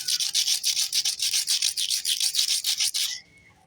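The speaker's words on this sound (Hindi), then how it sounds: "रेगमाल से सेल को साफ़ करते हैं" Sandpaper scrubs the corroded cells of an instant gas geyser battery pack clean in fast, even back-and-forth strokes, a close, loud rasping rhythm of about a dozen pulses that stops abruptly near the end.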